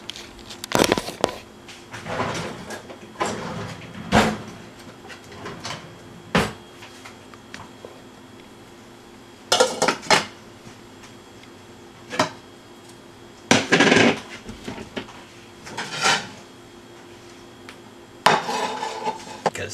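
Metal utensil scraping and knocking against a pan of solidified food that stuck because the pan wasn't greased, with repeated bursts of clattering and scraping separated by short pauses, close and fairly loud.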